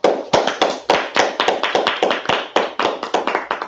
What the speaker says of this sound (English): Y'all let's clap it up.